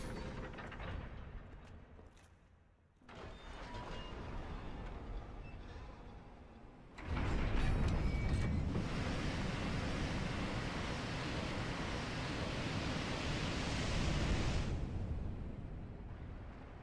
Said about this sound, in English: Open the floodgates!